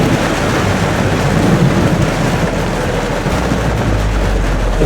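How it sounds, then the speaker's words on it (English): A thunderstorm rolls in over a boat, with steady loud rain hissing on the surfaces and a deep continuous rumble underneath, no voices. "So we'll watch this storm roll in."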